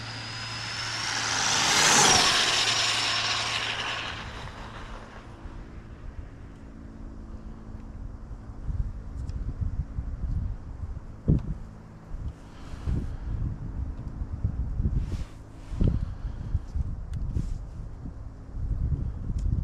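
A stretched Arrma Typhon RC car with an MMX 8s motor and TP 4050 makes a whining burst that rises then fades in wind noise, followed by scattered handling knocks and rustles.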